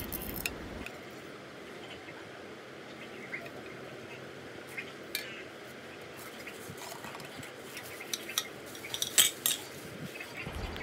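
A DS308 camping cooking set, with its metal pot and frying pan, is handled quietly. Sparse light clinks and taps sound against a soft background hiss, growing a little busier toward the end.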